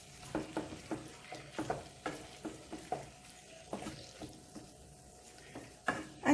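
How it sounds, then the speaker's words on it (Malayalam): A spoon stirs gobi manchurian, fried cauliflower in sauce with chopped coriander leaves, in a pan, giving a series of soft scraping knocks at an uneven rhythm over a faint sizzle. "മല്ലിയില കൂടി ചേർത്ത് നല്ലോണം മിക്സ് ചെയ്യുക."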